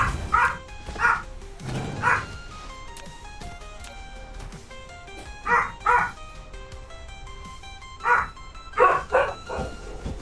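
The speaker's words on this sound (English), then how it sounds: "at least it's barking and not coughing" A dog barks in close, loud bursts, several clusters of yips and woofs with short gaps between them, over quiet game music.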